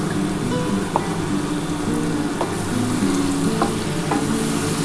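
Spice paste frying in a pan for a duck egg, soybean and potato curry, a dense steady sizzle with a few sharp clicks of stirring spread through the clip.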